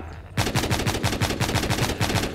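Rapid automatic gunfire from The Walking Zombie 2 mobile game as zombies are shot, a dense burst of evenly spaced loud shots starting abruptly and continuing without a break, no voices.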